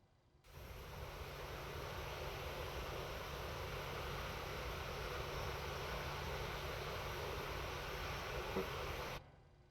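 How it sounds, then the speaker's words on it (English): In a flight simulator game, the aircraft's left and right generators come on as a steady, broad engine-like roar that starts abruptly, holds evenly for several seconds and then cuts off. "I'm gonna go ahead and turn on the gens."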